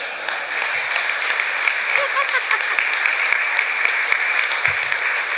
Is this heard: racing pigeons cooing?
no